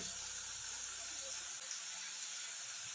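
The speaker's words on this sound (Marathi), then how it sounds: "एकदम कडकडीत तेलामध्ये टाकून आता खुसखुशीत शंकरपाळी तळून घेऊया" Jowar flour shankarpali frying in very hot oil, a steady close sizzle and hiss that holds at an even level throughout, with no voices over it.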